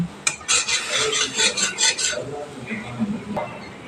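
Ground spices mixed with water being stirred and sautéed in a pan for white gravy paneer, a rhythmic series of close scraping, rasping strokes of a spoon against the pan, with faint sizzling between strokes.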